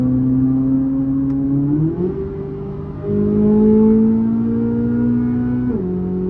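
A Corvette C8 Z06 engine hums inside a tunnel with a loud, steady drone that shifts pitch as it revs, dips, then rises again and steps down near the end, heard close and alone.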